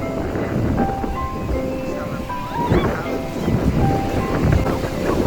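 Surf rolls and churns loudly on a beach at Cox's Bazar, with gusty wind buffeting the microphone, waves washing in continuously and nearby.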